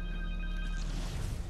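A cell phone rings in the Spider-Man 2 video game as steady electronic tones for under a second, then gives way to a low rumbling game background.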